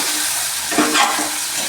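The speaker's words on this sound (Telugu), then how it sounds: "అన్నీ కలిపి కొద్దిగా ఎరుపు రంగు వచ్చే వరకు వేయించుకోవాలి." Meal maker soya chunks fry with spices in an oil-filled pan, a steady close sizzle broken by a couple of brief stirring scrapes.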